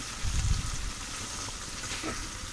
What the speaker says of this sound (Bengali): তখন মশলা হলো কষাই নিতেছি